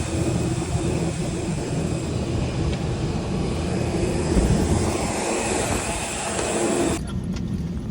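A loud airplane engine drones steadily nearby at an airport, a broad roaring hum that cuts off sharply near the end.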